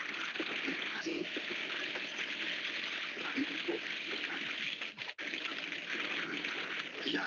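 Water poured out through a window in a cartoon scene, a continuous broad rushing splash that holds steady for several seconds, with a brief dip near the end and no talking.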